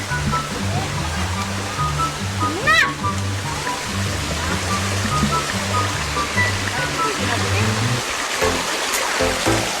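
Rushing water roars steadily and loudly like a strong river current, with people talking over the constant flow, at the Panangcalan River in San Fernando, Sibuyan, Romblon.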